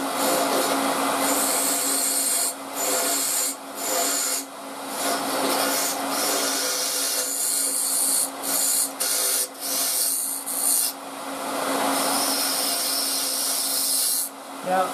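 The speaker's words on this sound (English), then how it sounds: "I'm going to start just by cleaning up this edge here. So a nice little bit of shear scraping." Shear scraping on a wood lathe cleaning up a turning workpiece edge, a loud continuous rasping hiss over the spinning lathe's steady hum, broken by brief dips as the tool lifts.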